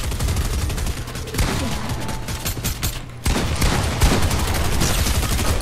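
Gunfire in the video game Fortnite: dense, continuous bursts of rapid shots and fusillades fill the clip loudly, with a brief lull midway before the shooting resumes.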